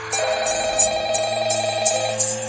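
A phone's outgoing ringing tone plays loud and close while the owner is called, a steady electronic tone pulsing in short regular bursts about every third of a second.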